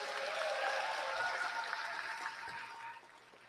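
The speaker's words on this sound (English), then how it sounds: "Can we have another round of applause for Ms. Harrison?" Applause from the audience at a middle school 8th grade graduation ceremony, a soft, diffuse wash of clapping that holds steady, then thins and fades toward the end.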